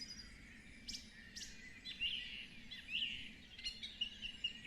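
Birds call and chirp outdoors behind the listener, a scatter of thin, high tweets and short trills over a faint steady background, moderately distant and with no talking.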